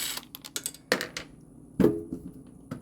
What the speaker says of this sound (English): we're going to grab the right socket. Go ahead and take out all the screws covering the plate here